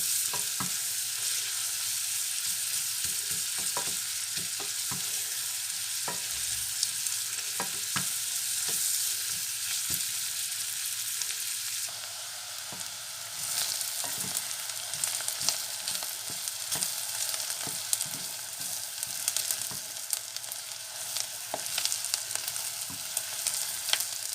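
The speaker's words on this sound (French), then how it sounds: "Donc les oignons, nous allons les faire blondir." Onions fry in a pan as the base for a brown sauce, giving a continuous close sizzle with scattered crackles and intermittent stirring scrapes throughout, with no voices.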